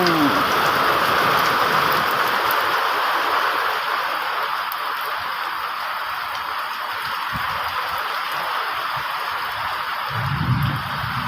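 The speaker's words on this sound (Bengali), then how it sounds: "মাঠে কিন্তু বৃষ্টি শুরু হয়ে গেছে।" Rain falling on an open village field makes a steady, dense wash of close patter, broad and even throughout, with no one talking.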